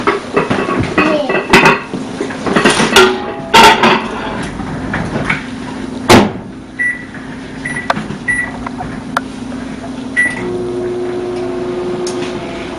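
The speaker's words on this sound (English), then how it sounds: "I'm going to put it in the microwave for 8 minutes." Kitchen sounds around a microwave oven cooking food in a covered baker: clattering dishes and lid clinks, a door thump, beeps, then the steady hum of the running oven, close and fairly loud.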